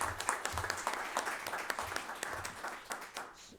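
An audience at a panel discussion on racial justice and the courts claps for a few seconds: a moderate, uneven patter of hands that thins out toward the end.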